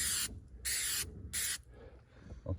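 Three bursts of aerosol spray hiss, each about half a second long and evenly spaced, applied thickly onto a finger during roofing and deck work to seal cracks, followed by quieter handling noise.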